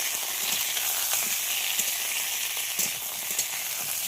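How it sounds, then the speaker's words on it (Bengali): Pieces of raw mango frying in hot oil give a steady soft sizzle with light crackles and occasional pops, close by and alone. "আমগুলো একটু ভাজা ভাজা করে নিতে হবে।"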